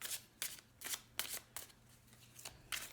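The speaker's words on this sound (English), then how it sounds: "I like to pull out 8 cards from here." Tarot cards are drawn one by one from a deck, a run of about eight quick papery flicks and slides in an even rhythm, close and quiet, with no talking.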